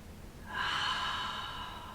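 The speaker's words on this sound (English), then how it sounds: "So breathing in and out." One slow, deep, audible exhale of breath through the nose during lower back stretches, a long breathy whoosh close by that fades gradually.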